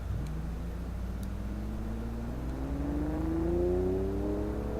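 A six-cylinder dirt track car's engine in BeamNG.drive revs steadily upward, its rising drone held close and continuous, with no talk.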